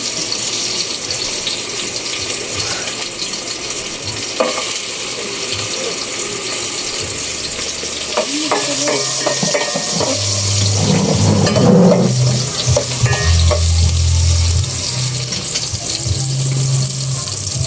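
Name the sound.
frying and stirring in a pan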